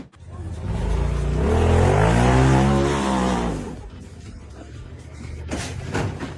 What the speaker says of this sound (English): The gray off-road vehicle accelerated to climb out of a deep, rocky pit